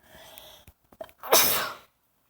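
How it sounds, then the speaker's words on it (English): A few quick breaths lead into a single loud, explosive sneeze close by, followed by quiet. "Excuse me, I just sneezed."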